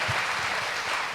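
Audience applause at a health conference screening, a brief dense patter of many hands clapping at steady volume.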